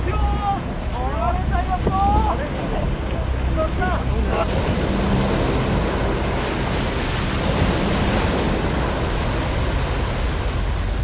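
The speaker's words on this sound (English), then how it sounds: "the biggest of the waves struck. It was more than twice the height of the plant's seawall." A massive tsunami surges against a Japanese nuclear plant's seawall, a loud, unbroken roar of churning water mixed with heavy wind noise, filmed from higher ground with no speech.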